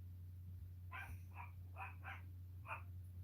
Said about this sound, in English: if you hear any dogs barking in the background